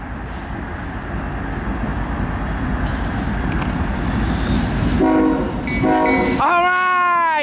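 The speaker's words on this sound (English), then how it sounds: "K5HL train horn sound." A westbound CSX short mixed freight train rumbles past up close with steady wheel and rail noise, then a Nathan K5HL air horn blasts loudly with chiming tones at the end.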